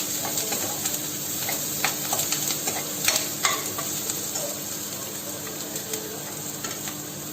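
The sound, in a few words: onions sauteing in a pan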